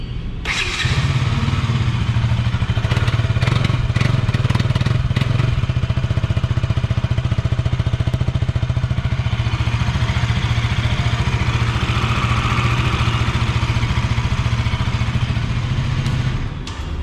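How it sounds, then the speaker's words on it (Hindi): A 2023 KTM Duke 200 motorcycle engine starts and idles close by, a loud, steady single-cylinder thrum with a slight rev early on, running alone without talk. "चलिए मैं आपको इस मोटरसाइकिल का इंजन साउंड सुना देता हूँ।"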